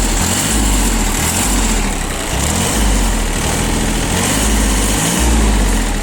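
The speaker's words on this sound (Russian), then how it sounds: "Видим, как отлично двигатель отзывается на нажатие педали газа." Engine of a Japanese mini tractor revving steadily as the throttle pedal is pressed, a loud, close, continuous drone with slight rises in pitch and a brief dip midway.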